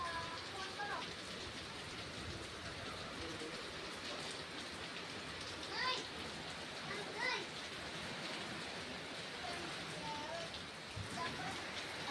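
Steady heavy rain hisses and patters on surfaces throughout during a windy storm in a village, with faint distant voices and occasional gusts mixed into the constant downpour.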